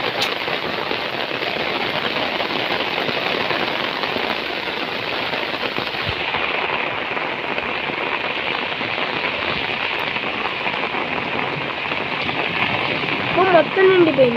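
Steady rain falling outdoors in a wet setting, a dense, even hiss that holds loud and constant for the whole stretch, with a few sharper spatters near the end.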